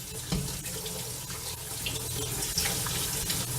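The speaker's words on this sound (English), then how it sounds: "so I'm gonna continue rinsing until I feel them cold with my hands" Cooked potatoes are rinsed under a running tap to cool them, a steady near rush of water with small splashes and clinks, no talking.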